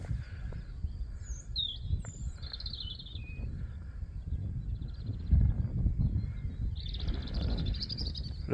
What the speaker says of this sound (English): it's a pleasant walk, hearing all the birds